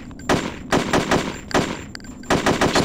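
Gunfire in Hitman: Codename 47 comes as three loud bursts of rapid shots, each lasting roughly half a second and separated by quieter gaps.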